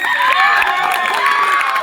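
Steady, dense applause and crowd noise at a school farewell ceremony, people clapping for a teacher, sustained and fairly loud for the whole moment with a few children's voices rising over it.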